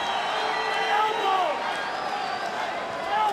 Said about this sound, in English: Great sellout crowd here tonight at the MGM Grand Garden Arena